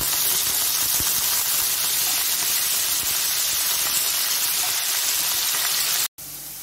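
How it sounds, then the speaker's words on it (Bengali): Potatoes dropped into hot oil for chickpea curry, a loud dense sizzle and hiss that holds steady for about six seconds before a brief cut, no voices. "আলুগুলো দিয়ে দিচ্ছি।"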